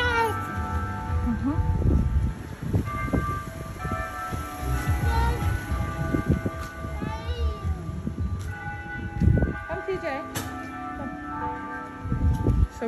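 A cat on Tokashiki Island meows repeatedly, its drawn-out, wavering cries coming up close while people talk around it.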